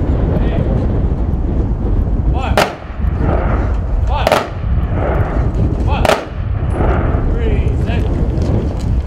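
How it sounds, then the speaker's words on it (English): Rifle team at a graveside military funeral firing three volleys, three sharp, loud cracks spaced a couple of seconds apart over heavy wind noise on the microphone. "Rifle team commander, prepare to fire three volleys."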